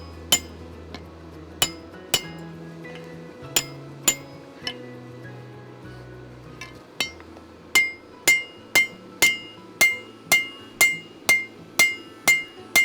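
A hammer forges the eye section of a steel axe on an anvil: scattered ringing blows at first, then a steady run of about a dozen rhythmic, sharp metallic strikes, close and loud with a light ringing tail.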